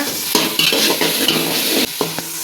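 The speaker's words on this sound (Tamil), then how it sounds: "5 நிமிஷம் எண்ணெயிலே வதக்கிக்கோங்க" Cauliflower sautés in hot oil with turmeric and salt, a loud close sizzle broken by several scraping stirs and clacks of a spoon against the pan.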